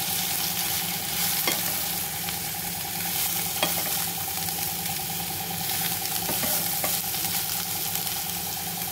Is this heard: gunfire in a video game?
no